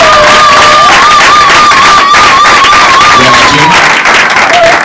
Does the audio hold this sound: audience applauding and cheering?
yes